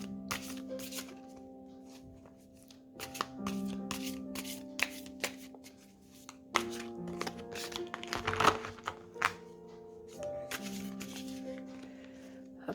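Tarot cards being shuffled by hand, a run of quick riffling, crisp flicks and soft slides in close, irregular bursts with brief pauses, accompanied by faint papery rustles and a low steady hum underneath.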